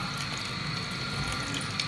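Water squeezed by hand out of grated cabbage, running and splashing steadily into a container, close and continuous for the whole stretch, with no voices over it.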